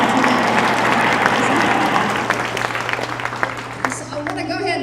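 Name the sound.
staff audience applauding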